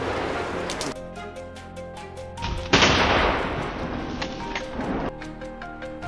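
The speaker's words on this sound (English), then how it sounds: "The gunshot was decisive, and it collapsed, tumbling down the hillside." Gunshot during a wild boar hunt on a hillside, one sharp loud crack partway through with a decaying tail, amid outdoor rustle and intermittent knocks.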